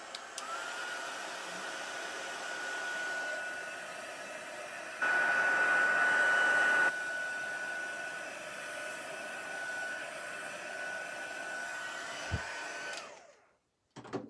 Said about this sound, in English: So this is our Stampin' Up! Heat tool.